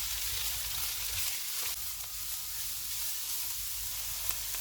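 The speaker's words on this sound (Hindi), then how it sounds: "आधा कप शिमला मिर्च डालेंगे। 1 कप बंद गोभी। इनको 1 मिनट तक भूनेंगे।" Capsicum and cabbage stir-fried in a pan over medium heat, giving a loud, constant sizzle and hiss with soft scraping underneath and no talking.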